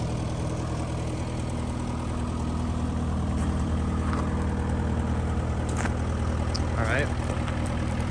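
A Case S175 skid steer engine idles at low revs, a steady rumbling drone that will not rev up, heard fairly close with a short spoken remark over it.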